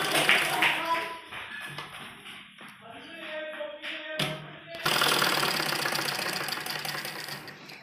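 Sewing machine stitching a folded 3-inch fabric strip for a toddler's umbrella-style frock, with rapid mechanical running bursts that pause and restart, then a longer steady run near the end.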